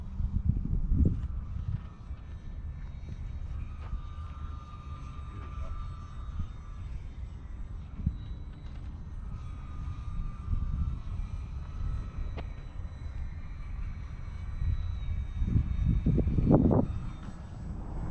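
A scratch-built radio-controlled model airplane flies in a crosswind, its small engine a faint, distant drone that rises and fades under gusty wind noise, with occasional voices nearby.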